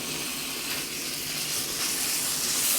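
Beef stir-fries in sesame oil in a hot pan, giving a steady, close sizzle and hiss that grows slightly louder over its short length, with no voices.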